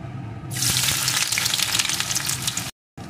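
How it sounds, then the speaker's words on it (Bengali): Chopped onion dropped into hot mustard oil in a kadai bursts into a loud, dense crackling sizzle after a brief quiet start, holding steady up close before cutting out abruptly near the end. "পেঁয়াজ কুচিটা একটু ভেজে নেব।"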